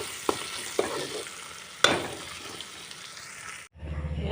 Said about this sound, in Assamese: পিঁয়াজ আৰু বিলাহী দি বনাম ভাজিছোঁ